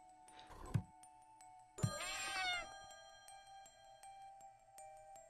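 A cat meows in the Friday the 13th: Killer Puzzle video game, with a bright electronic ringing tone sustained behind it and a couple of soft thumps.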